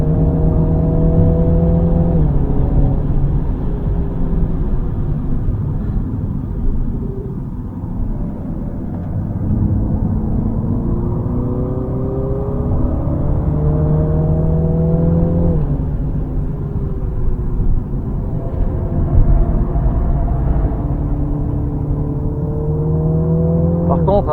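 A Mini drives hard around the Zolder race circuit, its engine rising in pitch through the gears and dropping at each shift across several long pulls, loud and close from inside the car.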